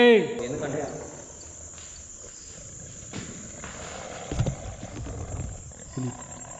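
A tiger roars at a forest location, giving a deep, fairly distant rumble that rises briefly midway, with a steady chorus of crickets and insects in the background and little else.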